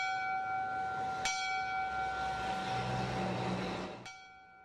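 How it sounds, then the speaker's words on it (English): A memorial bell rung by first responders at a fire station during a 9/11 remembrance ceremony, with two sharp strikes a few seconds apart, each ringing out with a sustained, shimmering metallic tone over a steady background hum. "First responders rang a bell to remember all the victims of the attacks."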